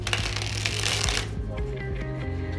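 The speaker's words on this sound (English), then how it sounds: "the cards should shoot out one by one from this corner here" Playing cards springing from one hand to the other in a cardistry spring make a dense rapid fluttering burst that stops abruptly, followed by quieter handling, all close up.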